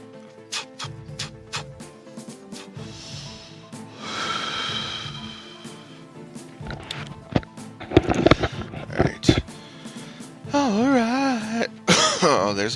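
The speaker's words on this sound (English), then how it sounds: "There's a little bit of a cough" Harsh, close coughing after taking a puff: a string of irregular bursts with throat clearing, snorts and heavy breathing between them, growing more forceful toward the end.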